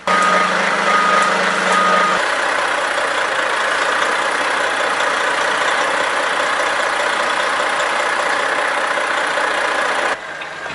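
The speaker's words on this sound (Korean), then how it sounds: "적재함을 들어올리는 힘찬 기계음과 덤프트럭의 디젤 엔진음이 심장을 두근거리게 한다." A heavy dump truck diesel engine runs steadily and loudly nearby while the bed hoist lifts, with a low mechanical hum at the start, then the rumble drops slightly near the end.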